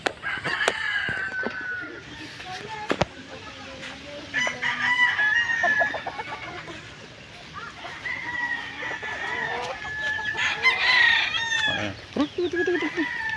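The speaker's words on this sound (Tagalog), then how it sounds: "Puro mga tandang yan." Several roosters crow repeatedly, their calls overlapping at close range, with clucking and other farmyard sounds in between.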